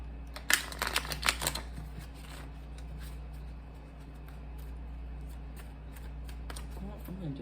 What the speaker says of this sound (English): I'm going to do one more shuffle on that.